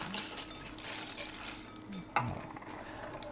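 Chocolate being stirred into a mixture for an Easter entremets with gelatine, giving a steady scraping, swishing stir close by with a brief sharper clink of utensil on bowl partway through.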